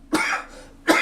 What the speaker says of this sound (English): God damn these coughs.